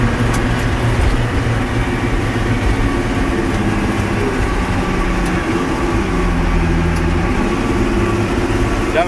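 A John Deere 7060 tractor pulling an Allis Chalmers 5-18 plow in a spring field, its diesel engine droning loud and steady under load throughout, close and continuous with no talking.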